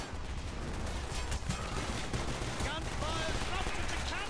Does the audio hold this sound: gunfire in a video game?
yes